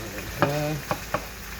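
Onions frying in a pan while being stirred, a steady sizzle broken by a few sharp scraping clicks of the utensil, close and fairly loud.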